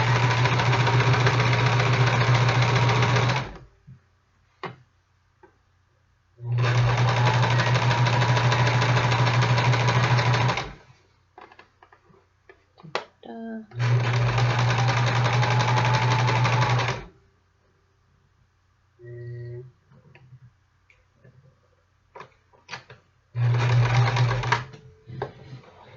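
Sewing machine basting a seam on a vest in several long stitching runs of a few seconds each, separated by pauses with small handling clicks and noises, close and fairly loud.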